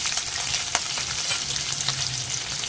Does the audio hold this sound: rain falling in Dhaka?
no